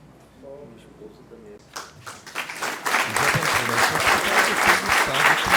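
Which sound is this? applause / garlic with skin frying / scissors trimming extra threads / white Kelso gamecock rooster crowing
applause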